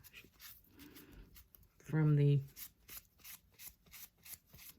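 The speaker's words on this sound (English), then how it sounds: "This is where I like to take my baby wipe, and I'll just wipe off the excess dust" Soft, scratchy rubbing of a baby wipe dragged across a sanded resin hair clip in short repeated strokes, wiping off dust, with a brief loud squeak in the middle.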